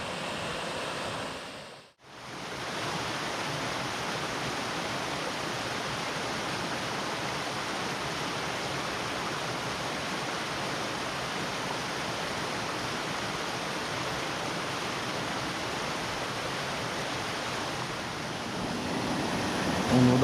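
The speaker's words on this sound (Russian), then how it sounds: "Еще один небольшой водопадик." A small waterfall in a narrowing rocky gorge gives a constant, even rush of water that fills the scene, broken only by a brief dropout near the start, with no talk.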